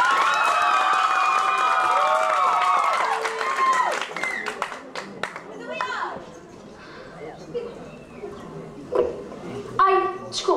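An audience at a youth public-speaking competition breaks into applause mixed with cheering, shouting voices, including children, over the first seconds, then the clapping thins into scattered claps under chatter.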